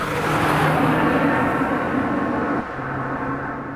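A 2025 Toyota 4Runner Limited drives along with a steady, loud engine and road drone heard from inside, easing slightly in level near the end.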